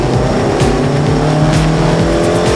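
Lotus Elise S engine heard from inside the car as it accelerates gently out of a corner, a loud, steady drone with rising engine tones and light tyre noise beneath.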